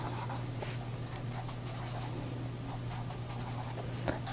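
A pen or pencil scratches faintly on paper while a base plan of a house, garage and trees is drawn, soft intermittent strokes over a steady low hum.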